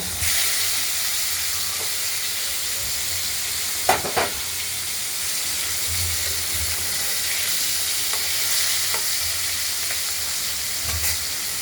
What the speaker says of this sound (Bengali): প্রথমে মাছগুলোকে আমরা ভেজে নেব।